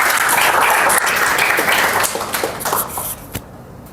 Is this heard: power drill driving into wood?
no